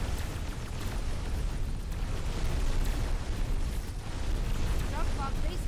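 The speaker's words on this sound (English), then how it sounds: "Dark fog base core destroyed." A dark fog base core explodes in the Dyson Sphere Program video game, giving a dense, continuous roaring rumble that holds for several seconds, with a few faint tonal blips near the end.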